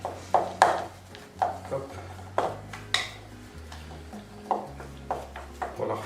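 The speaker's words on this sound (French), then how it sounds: "je vais remuer un petit peu ma panade là" Choux pastry panade stirred in a pan, a utensil knocking and scraping the pan in a steady series of clinks about every half second, close by, with a short spoken word.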